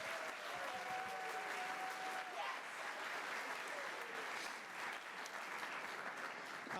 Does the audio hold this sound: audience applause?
yes